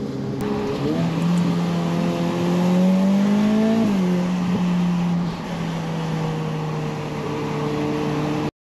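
A Ferrari pulls away with a rising engine note that climbs, drops as it shifts, then holds a steady hum, heard from inside the car.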